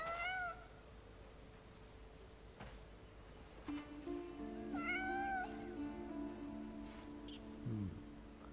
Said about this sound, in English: If you pet the cat or any animal, you get to see that.